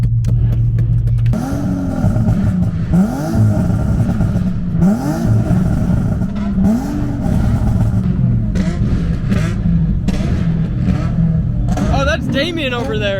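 Tuned cars rev their engines at a car meet near a drag strip, a Nissan G37 among them, with repeated rising and falling revs over a steady idling rumble and people talking throughout.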